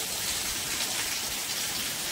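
Heavy rain pouring down, a dense, even hiss of drops striking surfaces, steady and loud for the whole stretch with no voices.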